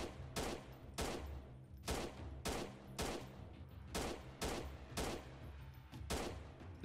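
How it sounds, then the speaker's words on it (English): Video game gunfire in the PC guerrilla warfare game Freeman: Guerrilla Warfare, a series of about nine sharp, booming shots fired at a steady, slightly uneven pace, each with a short decaying tail, loud and without voices. "I think I'm going to fire at this guy."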